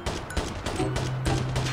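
Rapid bursts of J358 gunfire crack out in Call of Duty Mobile, several sharp shots in quick succession over a faint tone.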